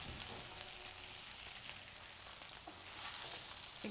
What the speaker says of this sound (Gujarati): પછી આ મુઠિયાના કટકા કરેલા એ નાખી દઈએ અને મિક્સ કરવાનું આ રીતે.